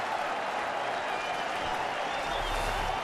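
Crowd of more than 45,000 rising to its feet at the Detroit Tigers home opener against the Red Sox with two outs, a dense, steady roar of cheering and applause filling the ballpark without a break.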